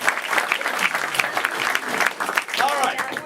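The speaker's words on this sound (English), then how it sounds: "let's give all of our players another round of applause" A studio audience at a game show claps for the players, dense sustained applause with scattered cheers and a voice talking over it near the end.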